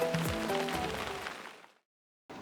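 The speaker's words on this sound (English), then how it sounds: "It's still raining." Steady rain falls at the end of the day near a boat in Guatemala, a dense, even hiss with scattered drips and some tonal background noise before it cuts to silence and returns briefly.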